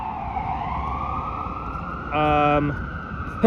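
A fire truck's siren drones steadily as it heads east on Bloor Street in Toronto, broken midway by a short, blaring horn blast, with city traffic underneath.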